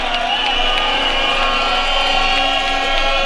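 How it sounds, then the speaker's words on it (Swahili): Audience applauding and cheering at an outdoor ceremony in Nakuru, Kenya, where the president confers city status: steady dense clapping with crowd noise, loud and continuous throughout. "Tupige makofi wananchi."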